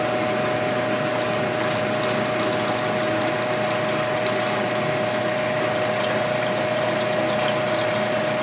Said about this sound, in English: I'm going to add this solution in right now, pour this off.